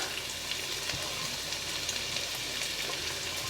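Sliced onions and green chillies fry in peanut oil in a pan, giving a steady, dense sizzle that runs unbroken throughout at moderate loudness, with no voices.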